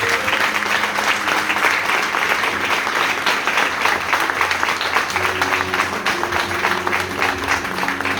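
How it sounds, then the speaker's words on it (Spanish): Steady, dense applause from a church congregation honoring Jesus as King of Kings, sustained and loud throughout with a faint background tone from instruments or a keyboard underneath. "Aplaude al Rey de Reyes."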